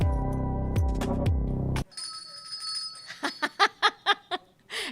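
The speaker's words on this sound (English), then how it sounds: "And we've got the bell," A bell rings in a live talk studio: three sharp struck dings at the start, then a shimmering sustained tone, followed by a quick series of bright clinking chimes near the end.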